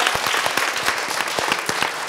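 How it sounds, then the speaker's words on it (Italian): A short burst of lively applause from an audience, dense overlapping claps at steady loudness throughout. "Scatta l'applausone."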